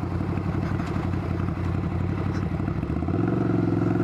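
A 2022 Ducati Scrambler Nightshift being ridden, its loud, close engine beating out a rapid, rhythmic low thrum that smooths and rises in pitch near the end as the throttle opens.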